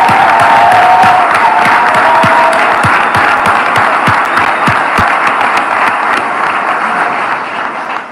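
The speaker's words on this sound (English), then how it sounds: "Give these guys a round of applause." A big crowd bursts into loud applause and cheering for first responders at a Florida rally, continuous clapping with sharp nearby claps that tapers slightly toward the close.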